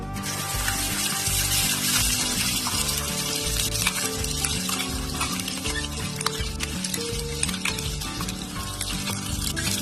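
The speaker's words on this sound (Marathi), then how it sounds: "मी आधी मसाला तळून घेते थोडासा आदळलेला" Masala frying in hot oil in a pan for a Maharashtrian puran poli meal, with a loud continuous sizzle and repeated stirring and scraping close by, alone throughout.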